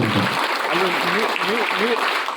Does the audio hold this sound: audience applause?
yes